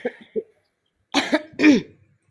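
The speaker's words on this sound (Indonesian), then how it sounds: "kalau masalah batuk itu karena kebanyakan Rokok" Two or three harsh smoker's coughs in quick succession, close and fairly loud, following a few soft vocal sounds.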